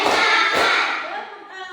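Hands clapping during a counted ice-breaker clapping game in an Indonesian classroom, a dense burst of claps with a sharper clap partway through, close and fairly loud.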